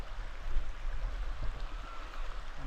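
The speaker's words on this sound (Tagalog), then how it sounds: "Running water kasi." Clear running stream water beneath the hanging bridge at Silon, a steady broadband rush with low rumble, continuous and fairly close throughout with no voices.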